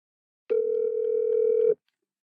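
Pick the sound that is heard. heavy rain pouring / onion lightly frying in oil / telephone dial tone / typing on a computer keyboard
telephone dial tone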